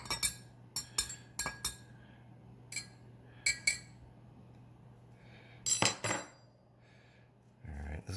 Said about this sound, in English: I'm gonna get something to stir that up a little bit with